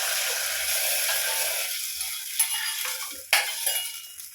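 Liquid poured into a hot pan while making idiyappam, a loud hiss that gradually settles into a softer sizzle with a few clinks of a utensil.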